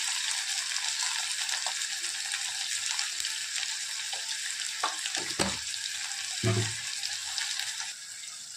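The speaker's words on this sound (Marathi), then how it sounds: "अद्रक लसूणची पेस्ट थोडीशी आता ह्याला छानचं भाजून घ्यायचं आपल्याला" Ginger garlic paste with tomato frying in a pan, giving a steady broadband sizzle that runs throughout, with a few soft utensil scrapes and stirring sounds near the middle and no talking.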